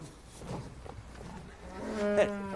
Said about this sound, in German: Kollege hat die Kühe Lena und Sabine gekauft, die letzten 2 Milchkühe von einst 35